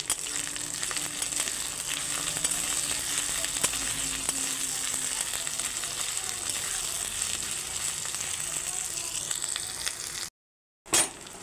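Chopped tomato frying with browned onion and ginger-garlic paste for a rural-style jackfruit curry, a steady close sizzle running unbroken before cutting out briefly near the end.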